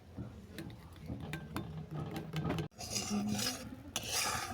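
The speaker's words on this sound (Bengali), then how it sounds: "একটা বাটিতে গরম জল নিয়েছি, ওর মধ্যে কিছুটা পাউডার দুধ আমি গুলে নিচ্ছি।" A spoon stirs powdered milk into hot water in a bowl, giving quiet, repeated scraping and rubbing strokes with light ticks against the bowl, close but faint, with a brief pause midway.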